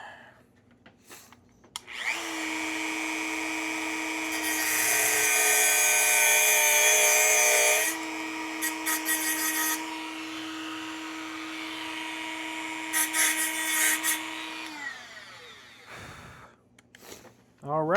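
A power tool whines with a long steady high-pitched motor tone while driving screws into a throttle lever assembly, then drops out, followed by a second shorter run and brief clicks.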